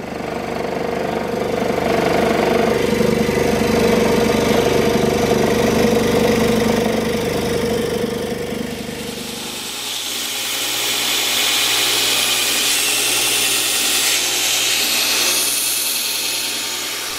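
Power tool cutting through 1/2-inch plywood to make a pumpkin-shaped base, a loud steady motor whine for about nine seconds that then drops to a lower humming run-down.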